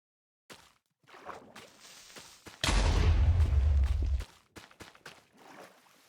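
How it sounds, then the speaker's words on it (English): A creeper explodes in Minecraft: a sudden loud, broad blast that holds for about a second and a half and then cuts off, with faint game clicks and scattered noises before and after. "Thank you for the creeper explosion."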